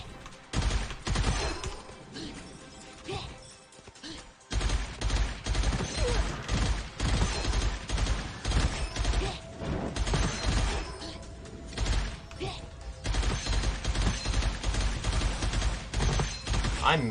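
Rapid gunfire rattles almost continuously in the shooter Gunfire Reborn, a dense volley of loud, close shots with one brief lull early on before the firing resumes unbroken.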